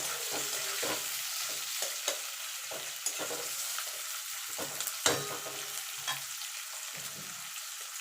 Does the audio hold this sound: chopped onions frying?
yes